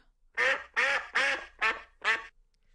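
A duck quacks five times in a steady series, each call loud, nasal and close, with short gaps between them and nothing else heard.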